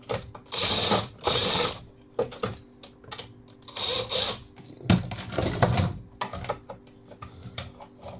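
Screws being driven out of an appliance's heating element during scrapping, heard as several loud bursts of whirring power-tool ratcheting separated by clinking and handling clatter, close up with no speech.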